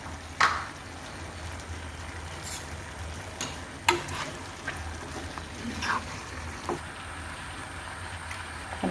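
Pepper chicken with herb paste being stirred in a pan, giving soft scraping and light sizzling with a few sharper spoon clinks against the metal, steady and close.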